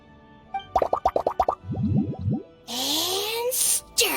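Ingredients (lizard tails, fish scales, mucus and slime condensate) plop into a drink in Genshin Impact: a quick run of about seven bright, close plops, then springy rising boings and a swirling whoosh.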